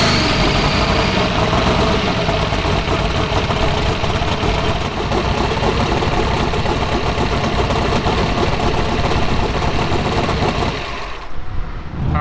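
A drag car engine is fired up on a cold track and settles into a loud, steady, rumbling idle that runs throughout, with a rough mechanical vibration, then drops off sharply near the end.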